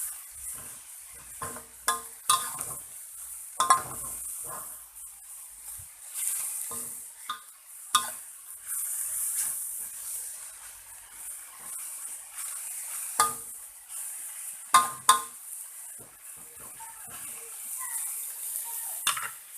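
Enoki mushrooms and sliced pork being stir-fried in a pan, soft intermittent scraping and stirring strokes over a quiet sizzle, with irregular sharper clinks of utensil against pan, close and moderately faint.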